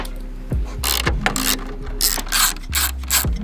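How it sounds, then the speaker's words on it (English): A ratchet removing the top grille bolts on a Ford Ranger Raptor, clicking in quick close-up bursts with a few sharp knocks between strokes, no talking. "Just got to take the 2 top bolts off the top of the grill there."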